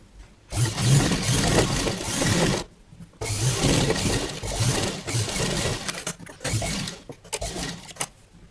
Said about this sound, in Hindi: और सबसे पहले इसकी सीधी सिलाई लगा लेंगे।